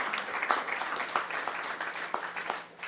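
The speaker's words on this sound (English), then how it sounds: "So applause for them." Audience applause at a Yakima School District board meeting, honoring a soccer team named spring team of the year; steady moderate clapping from a room crowd, fairly distant, fading slightly at the end.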